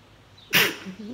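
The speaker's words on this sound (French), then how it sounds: "Pardon, j'éternue." A single sharp human sneeze bursts out close and loud, then fades into brief breathy noise with no speech.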